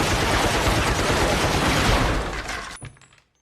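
A dense, continuous burst of rapid gunfire, loud and close, rattles for nearly three seconds and then cuts off abruptly.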